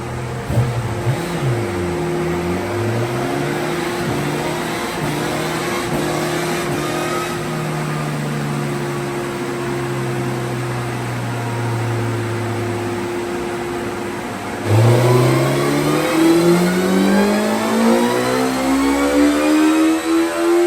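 Car engine on a dyno breathing through a $30 Temu exhaust, loud and close: a sustained rev climbing and holding high, then a sharp drop and a fresh rising pull near the end.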